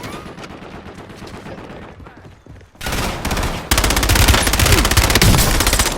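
Automatic gunfire and bursts in a Call of Duty Warzone battle royale match in Verdansk, starting quieter and then getting loud and sustained with dense rapid fire over the last three seconds.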